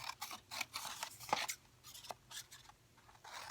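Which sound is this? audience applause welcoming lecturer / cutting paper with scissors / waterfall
cutting paper with scissors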